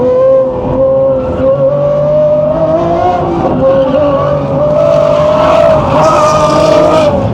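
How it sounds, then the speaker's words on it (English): A loud, high-revving McLaren 750S or Lamborghini Revuelto engine drones close by on a race track, its pitch climbing and dropping through gear changes with brief blips as it downshifts. "Sounds a beast, those downshifts."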